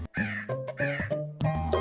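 A crow caws repeatedly in a children's thirsty crow story, giving three or four harsh, close, loud calls in quick succession with no talking.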